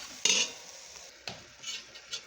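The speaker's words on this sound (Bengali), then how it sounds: "এখন আমি এখানে মরিচের গুঁড়া, হলুদের গুঁড়া আর একটু রাঁধুনি মুরগি মাংসের মশলার গুঁড়া দিয়ে সেটাকে ভাজা ভাজা করে নিচ্ছি।" Chili powder, turmeric and Radhuni chicken meat masala powder fry in a pot as a spoon stirs them. Sharp scrapes land near the start and middle over a soft, steady sizzle, with lighter clinks toward the end.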